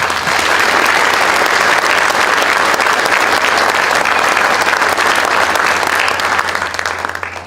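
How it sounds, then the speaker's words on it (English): Sustained applause from a large audience honoring Hall of Famers at an awards night, dense and steady clapping filling the room for several seconds before tapering off at the end. "let's give our Hall of Famers one more round of applause"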